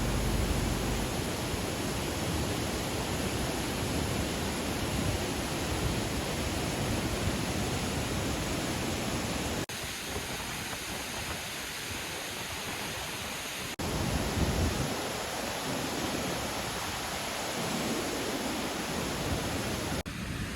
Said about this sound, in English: See, this waterfall is coming down from here.